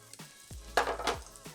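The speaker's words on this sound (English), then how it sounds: "It's a good sizzle." A quiet hiss of food sizzling in a hot pan, with a couple of soft bursts of louder crackling and faint low thuds.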